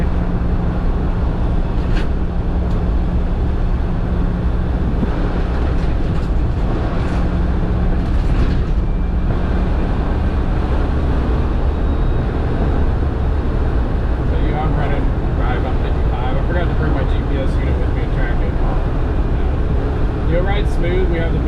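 A 1992 Land Rover Defender 110 five-door station wagon with a V8, cruising in fourth gear, gives off a steady, loud drone of engine and road rumble that fills the whole stretch without letting up.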